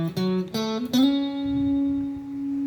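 A single sustained guitar note from a song intro, held steady without vibrato after a couple of quick picked notes, ringing clearly and fading slowly on its own.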